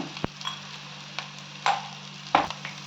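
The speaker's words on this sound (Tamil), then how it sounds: "இதையெல்லாம் நல்லா வதக்கிக்கிங்க" Green chillies and curry leaves sauté in a pan, making a low steady sizzle broken by several sharp spatula scrapes and clinks against the metal, spaced irregularly and close by, with no speech.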